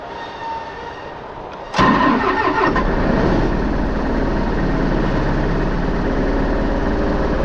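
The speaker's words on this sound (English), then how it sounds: "Got to keep the starter motor on, because it's going now." An engine cranks briefly on a cold day, then catches abruptly and settles into a loud, steady idle close by for the remaining seconds, with no talk over it.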